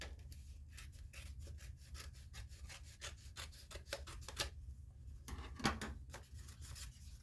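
Scissors cut down the middle of a sheet of folded craft paper in a quick series of close, crisp snips and rustles, quiet and with no voices.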